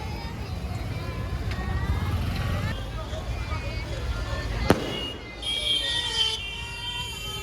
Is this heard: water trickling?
no